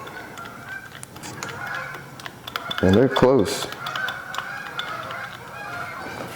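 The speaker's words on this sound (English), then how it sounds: "The geese are out." Geese honk close by in a short cluster of several loud, nasal calls lasting about a second. Someone speaks quietly before and after, and faint outdoor background noise runs throughout.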